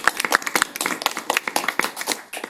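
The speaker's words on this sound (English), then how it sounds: "round of applause for Maddy" Scattered clapping from a small audience at an abolitionist poetry reading, a handful of distinct hand claps in an uneven, close rhythm rather than a full wash of applause.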